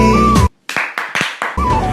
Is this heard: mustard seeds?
no